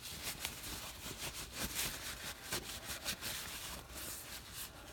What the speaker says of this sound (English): I'm going to keep scrubbing until all my apples are clean.